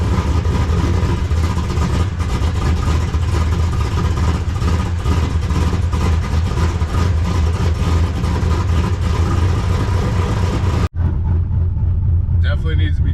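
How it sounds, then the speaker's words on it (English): A Chevrolet Silverado truck engine, cold and running rich, rumbles loudly at close range in a steady idle with revving, then cuts off abruptly near the end, followed by a quieter stretch with faint voices. "Let's get a cold start."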